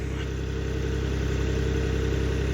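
A farm tractor engine runs steadily close by, a constant low rumbling drone with an even throb and no other sounds over it.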